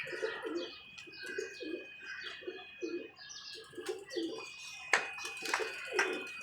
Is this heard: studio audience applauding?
no